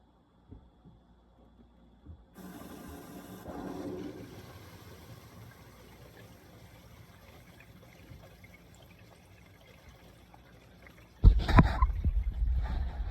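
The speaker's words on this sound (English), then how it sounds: "So I'm sure you just heard the water rush through." Water rushes into a hot water heater tank as the supply is turned back on after a pressure relief valve install, a steady low flow rising midway, then a louder surging gush near the end.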